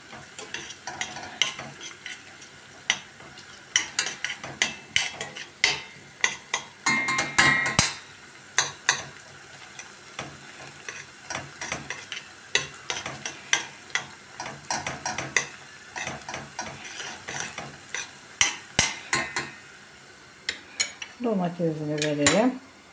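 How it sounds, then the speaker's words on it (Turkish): Onions fry with tomato paste in a pan under a soft sizzle, broken by frequent sharp clinks and scrapes of a utensil stirring against metal, close and irregular, with a brief clatter near the end. "Salçasını da kavrulsun şöyle soğanlar."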